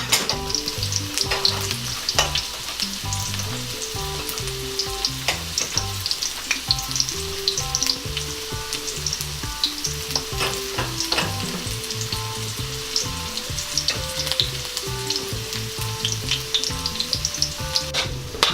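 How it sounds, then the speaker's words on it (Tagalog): Onions and garlic sautéing in a pan, a loud, steady sizzle heard close up throughout, with frequent scraping stirs and light clatter and no talking. "Ngayon naman po ay pwede na nating igisa itong ating sibuyas. At isunod na rin po natin itong ating bawang kaagad."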